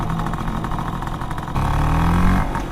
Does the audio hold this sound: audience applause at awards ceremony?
no